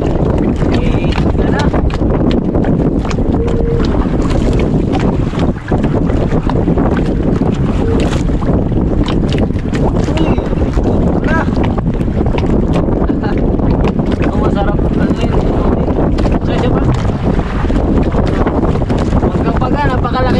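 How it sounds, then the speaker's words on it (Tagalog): Loud, constant wind buffets the microphone over the rush and slap of big waves around a fishing boat at sea, with voices faintly underneath. "Malaki na rin yung alon dahil sa hangin"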